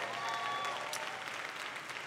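A church congregation claps in a brief, dense burst of applause, steady and moderately distant, faint in overall level.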